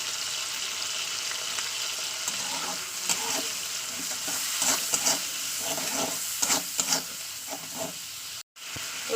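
Fish fat sizzles steadily in hot oil in a pan, a continuous crackling hiss with occasional louder pops and spatters.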